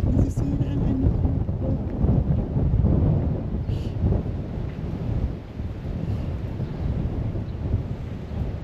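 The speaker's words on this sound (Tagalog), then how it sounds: "Nalilipad ng hangin yung GoPro pag nilalapag ko." Wind buffets a GoPro camera set down outdoors among cherry blossom trees at Hashimoto Memorial Walk, a loud continuous low rumble of microphone gusts with faint sounds above it.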